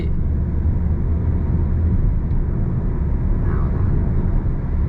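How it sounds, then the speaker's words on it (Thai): A Mercedes-Benz A200 cruises at a steady, constant speed in eco mode, and a low, even road and engine rumble fills the cabin with no change in pace. "ขับไปนิ่ง ๆ ความเร็วคงที่"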